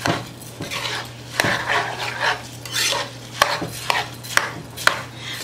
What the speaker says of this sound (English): So now we want to mix our rice with all that goodness of the Dominican longaniza